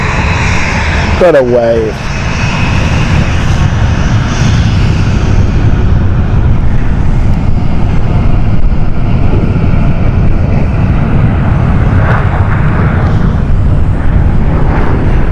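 A Ryanair airliner rumbles at Stansted Airport, a loud, close, broad engine roar that holds steady throughout under a brief spoken remark near the start.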